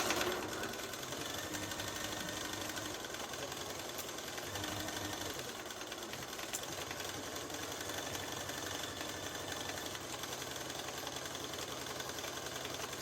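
A sewing machine stitches a collar on a duster coat, a fast, even mechanical chatter running steadily and fairly quietly throughout, with brief slowdowns and no talk.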